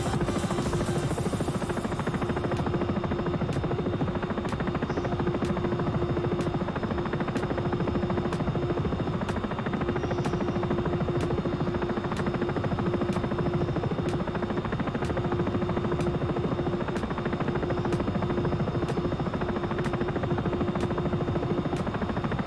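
A Sikorsky S76 helicopter in the X-Plane 11 flight simulator drones steadily in flight, with a constant engine hum, a sustained rotor tone and a faint rhythmic beat running throughout. No voices are heard.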